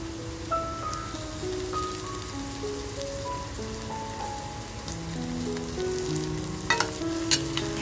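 Curry leaves and coriander stems sizzling in hot oil in a pan: a steady crackling sizzle under soft tonal background music, with a few louder spits near the end and no talk.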